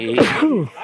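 A single close sneeze from a person, a short sharp burst with a voiced tail lasting under a second.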